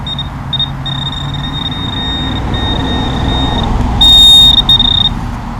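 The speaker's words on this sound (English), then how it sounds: "Let's see if we can find something with this pin pointer down in there." Metal detector pinpointer probing down in a hole under a tree root in a yard while coin hunting, giving a steady high electronic tone that sputters briefly, then a louder, sharper beep near the end over low outdoor background noise.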